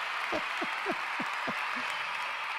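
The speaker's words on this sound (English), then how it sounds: "Applause all around, Tshepo." Continuous applause fills the space as a steady wash of clapping, with a few short high chirps cutting through.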